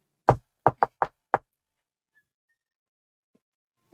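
Five quick knocks rap on a door in a syncopated pattern, one, then a rapid group of three, then one more, crisp and close, followed by near silence.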